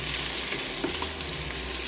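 Green chili and crushed garlic frying in hot oil in a home kitchen, a steady close hiss and sizzle that runs evenly through the whole moment with no voices.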